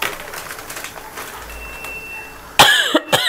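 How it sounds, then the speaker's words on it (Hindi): A burst of coughing near the mic, two or three harsh hacks close together at the end, set off by spicy fumes while a moong dal stuffed paratha is cooked in a home kitchen, after a stretch of quiet kitchen background. "अभी बना भी रही हूँ ना तो भी एकदम खांसी का भपका आता है"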